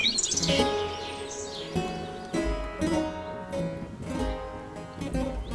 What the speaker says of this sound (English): birdsong stole over the countryside and now echoes in the woods